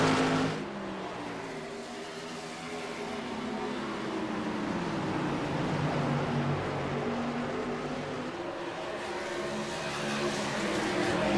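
Stock cars racing close at Richmond, a steady engine roar with shifting tones as the cars run nose to tail, distant and fairly muted, continuous throughout without any speech.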